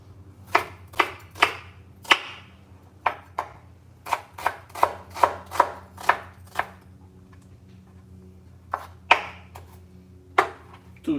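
A knife chops shallots on a cutting board in quick, crisp bursts of close, sharp strikes, each group separated by brief pauses, with a low steady hum in the background and no talking.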